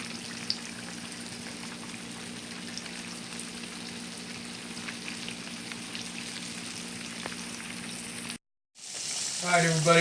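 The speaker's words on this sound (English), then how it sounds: "I'm doing the fried bread, the Navajo fried bread" Navajo fry bread dough frying in oil, a steady close sizzle running for several seconds before a brief cut and a louder burst of frying at the end, no talking.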